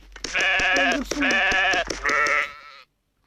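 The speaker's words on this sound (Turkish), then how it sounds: "Hayvan da koyun. koyun." A video game sheep bleats three times in quick succession, loud and close, each call a wavering nasal baa, followed by a moment of silence.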